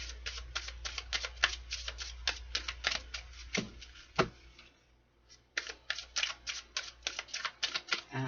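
A deck of cards is riffled and shuffled repeatedly at close range, quick crisp flutters in bursts with a short pause midway, over a low steady hum in a quiet room.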